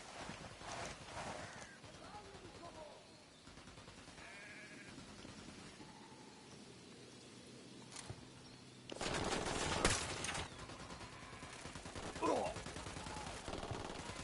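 Automatic gunfire in Ghost Recon Wildlands, played solo on extreme mode, comes in scattered bursts before a sustained loud barrage, with voices heard in between.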